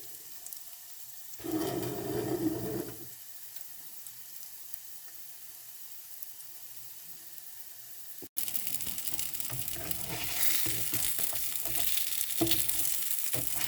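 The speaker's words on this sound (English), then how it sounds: "now I'm going to be popping in my lentil burgers" Red lentil nut burgers set into an oiled pan: a short burst of frying at first, then quiet, then a louder continuous sizzle and spatter with occasional stirring scrapes, close and with no voices.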